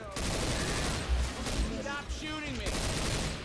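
Bursts of SG552 assault rifle fire in the zombie shooter Left 4 Dead 2, loud and continuous over a noisy game mix of effects and chatter, with voices talking throughout.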